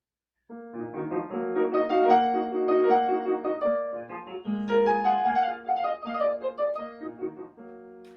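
A piano plays the second theme of Beethoven's Sonata Pathétique in a minor key, a flowing melody over steady accompaniment with a brief pause midway, solo and fairly loud throughout.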